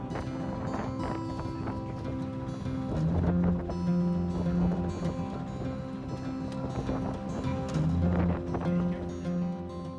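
Steady wind roars and buffets around a sailing boat at a marina berth, with rattling and creaking from the rigging and hull. The noise stays loud and constant throughout and swells in two gusts.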